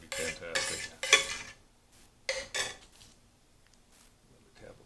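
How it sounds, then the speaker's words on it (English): A utensil stirs butter into a pan sauce, scraping and clinking against the pan in several short bursts of a second or so, close and moderately loud, with faint sizzling between the strokes. "Slowly incorporate the butter into the sauce."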